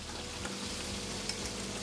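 Steady crackling sizzle of food frying in a pan, a continuous hiss with small pops throughout, fairly close and moderate in volume.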